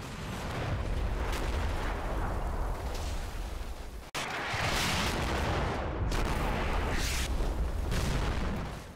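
An artillery volley strikes in the wargame Combat Mission Battle for Normandy, with heavy, rumbling shell blasts rolling in succession and a brief cut midway, with no talking.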